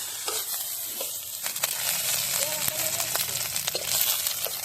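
Pork frying in a pan outdoors as its fat renders into oil, giving a steady close sizzle and crackle with scraping stirs, and faint voices in the background.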